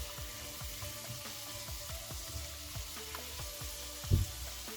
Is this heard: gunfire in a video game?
no